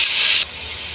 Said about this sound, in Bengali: এখন আমি আলুগুলো একটু ভাজা ভাজা করে নেব